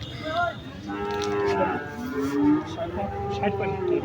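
A cow at a rural cattle market in Gopalganj moos in a long, drawn-out low call lasting several seconds, close and loud, with faint crowd murmur behind it.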